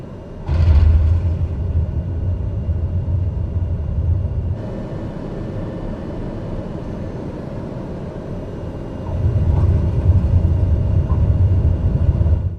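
A plane touching down in Microsoft Flight Simulator 2020 gives a heavy low rumble and rattle, a loud jolt at the start and another surge near the end over steady cabin noise.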